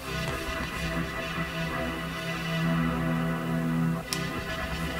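A breathy synth pad, ducked by a sidechain spacing plugin with its source muted, plays as a dense, sustained wash that swells and eases slightly in level, with one brief tick near the end.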